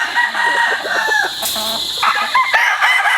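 Chickens cluck and a rooster crows nearby on a gamefowl farm, with several loud overlapping calls and cackles from close birds.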